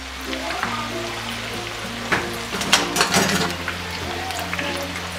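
Spiral potatoes frying in hot oil in a home kitchen, giving a steady sizzle with crackling spikes and occasional clinks of utensils while people talk quietly nearby.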